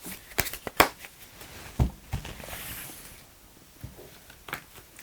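Tarot cards shuffled and drawn on a table: a series of sharp, close card snaps and flicks scattered irregularly, with soft rustling between them and no talking.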